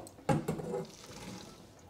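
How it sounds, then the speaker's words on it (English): Water draining off cooked chickpeas into a sink, a brief splash followed by a softer trickling pour that fades out over a couple of seconds, close and alone without talk. "I'm just going to quickly drain that little bit of water out"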